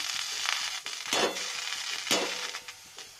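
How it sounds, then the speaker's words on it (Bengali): Radish greens go into a hot wok and sizzle steadily. Two louder crackling surges come as the leaves hit and shift in the oil, set against a constant close frying hiss. "তো কড়াই প্রথমে মূলো শাকটা দিয়ে নিচ্ছি।"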